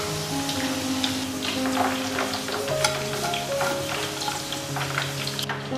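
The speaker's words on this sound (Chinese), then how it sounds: "这样莲藕也放到锅里炸去了" Lotus root deep-frying in oil in a wok, a steady close crackling sizzle with occasional stirring clinks and scrapes, continuous throughout and without voices.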